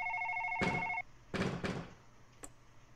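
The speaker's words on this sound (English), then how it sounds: "Now, whose phone is that?" A mobile phone rings with a repeating electronic tone that cuts off after about a second, followed by a few knocks and thumps nearby.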